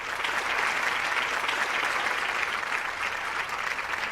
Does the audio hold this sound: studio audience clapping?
yes